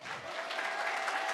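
An audience at an evening civic event on voting and democracy gives a speaker another round of applause, dense steady clapping that holds at an even level throughout without any voices.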